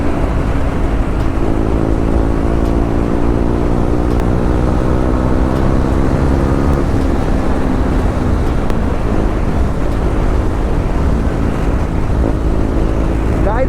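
A modified KTM Duke 390 motorcycle is ridden hard with the throttle open, its engine note climbing in pitch, then dropping back and building again, under constant loud wind rush.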